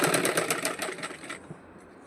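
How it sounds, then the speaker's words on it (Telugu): A sewing machine stitching piping onto a blouse gives a close, rapid run of regular mechanical clicks that slows and stops partway through, leaving a quiet tail. "పట్టుకుని నిదానంగా మెల్లగా కుట్టుకోవాలి. బ్యాక్ సైడ్ లాగుతూ ఇలా కుట్టాలి."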